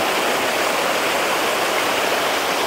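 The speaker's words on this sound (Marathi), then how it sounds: "मंदिरापासून काही किलोमीटर अंतरावर असलेल्या टेकडीवरून हा धबधबा उगम पावतो" A waterfall near Kondeshwar temple, flowing down from a hilltop into a pool, makes a loud, steady, close-up roar of falling water that stays unbroken across the whole clip with no voices.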